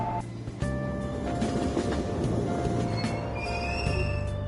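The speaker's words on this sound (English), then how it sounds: "Train doors are now closing." A train in the video game Persona 5 Royal pulls out of a station, its rumbling wheels and rail noise swelling in after a brief quiet start and running steadily close by.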